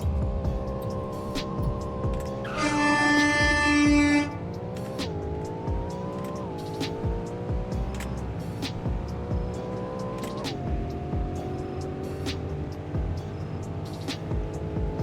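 A stock Ford Mustang Dark Horse with a manual gearbox launches hard at a drag strip. The engine note climbs in loud, steady revving through several gear changes, with a brief high squeal near the start.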